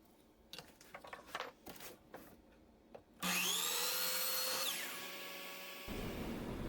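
A drill whines up to a loud, steady high-pitched run boring into a wooden pen blank and keeps going, preceded by scattered clattering and handling noises.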